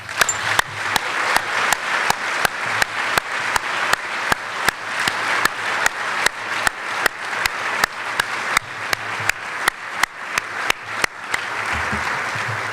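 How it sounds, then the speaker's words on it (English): Audience applause fills a graduation ceremony for a Year Up class in Providence, a dense, steady wash of clapping that carries through most of the stretch and thins out near the end. "Can I ask that everyone join me in applauding?"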